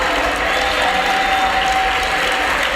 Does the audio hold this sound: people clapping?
yes